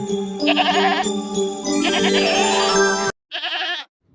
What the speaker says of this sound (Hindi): यह तो बकरी के चिल्लाने की आवाज है